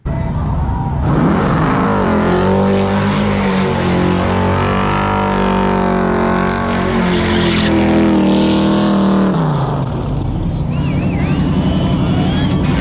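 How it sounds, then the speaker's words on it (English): A loud, sustained engine roar with rising and falling pitch and tire noise, a pro race truck spinning its wheels in a long burnout at New Smyrna before fading back. "how about that burn out there?"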